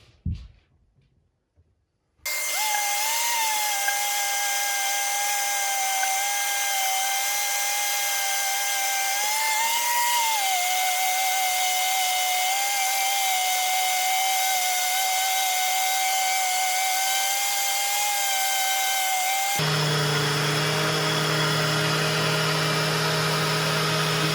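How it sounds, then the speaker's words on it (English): Power sander working on the logs of a log home, a loud continuous high whine that holds steady for about twenty seconds after a brief quiet start, shifting in tone near the end, with no talking. "These scratches take forever to sand out."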